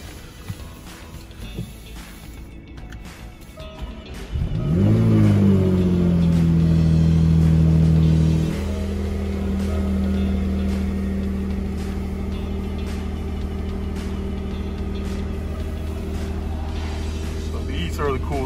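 A 2016 Jaguar F-Type S with a supercharged V6 and aluminum body starts up with a sharp rising rev, settles into a loud high idle, then drops to a steady, deep rumbling idle, with voices talking faintly at times.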